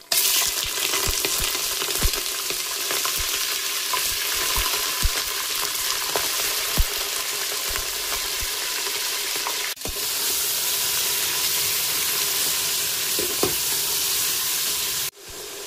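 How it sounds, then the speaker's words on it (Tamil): Chicken pieces fry for Dindigul biryani in a pan, giving a steady loud sizzle throughout, broken by scattered clicks and scrapes of stirring and a couple of brief dips. "இப்போ சிக்கன் ஆட் பண்ணிக்கிறேன்."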